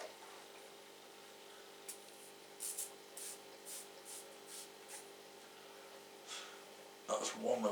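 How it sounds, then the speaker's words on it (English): A hand sprayer mists fungus fighter onto orchids growing in live moss, giving a string of short, soft hissing puffs at irregular spacing, fairly quiet, followed by brief rustling handling noise. "I'll just give them a little spray"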